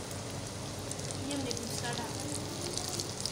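Coated chicken wings frying in hot oil, with a steady crackling sizzle running throughout and a voice speaking faintly in the background.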